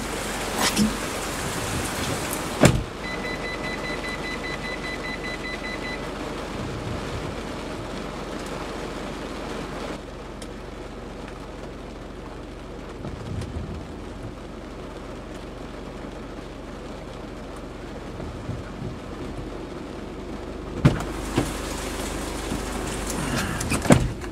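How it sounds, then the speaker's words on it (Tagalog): Heavy rain pours steadily as a broad, constant hiss outdoors near a garage and parked cars, with a few louder knocks and bumps rising through the downpour at the start, middle and end. "Ang lakas ng ulan, no?"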